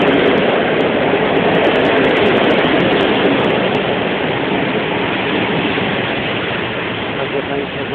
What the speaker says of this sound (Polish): To pociąg.